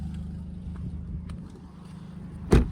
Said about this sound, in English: Pop the door open so you can hear it. All the bangs and pops.